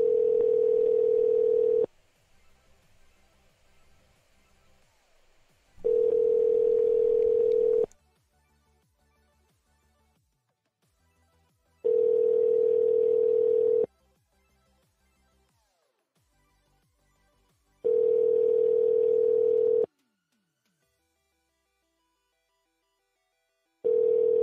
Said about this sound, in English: Alright, I'm calling the wrestler lady.